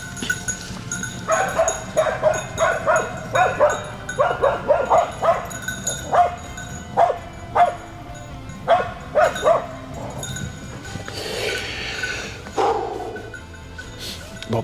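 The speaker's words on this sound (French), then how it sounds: "on entend le chien qui chasse" A hunting dog barks repeatedly during a wild boar hunt, a string of sharp, evenly spaced yelps at moderate distance with a few higher whimpering calls near the end.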